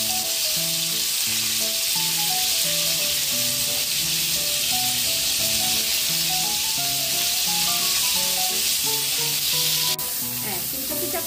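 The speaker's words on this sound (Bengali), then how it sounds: "फुलकपिगुलोके एकटू तेले भेजे निते होबे।" Cauliflower florets fry in oil with a loud, steady, bright sizzle that runs throughout under a melodic music track, ending with a sharp clatter near the end.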